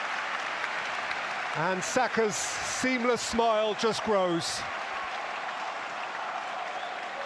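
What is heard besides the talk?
stadium crowd applauding football play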